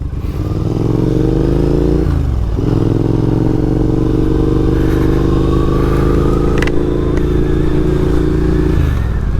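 A Triumph Scrambler motorcycle rides an off-road green lane. Its engine drones loud and close throughout, the pitch dipping briefly around the middle and then holding steady under the rattle and clatter of rough ground.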